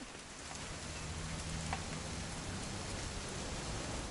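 Steady rain falls in the video game What Remains of Edith Finch as an even, continuous hiss, moderately soft and unchanging throughout.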